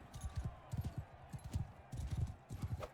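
Horse hooves clip-clopping in the Bannerlord Realm of Thrones video game, a quick, steady galloping rhythm of soft thuds, fairly faint and continuous.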